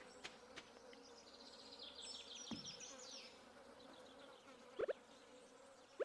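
Bees around a bee house in a video game give a low, steady buzz that runs throughout, with a few sharp clicks and taps near the end.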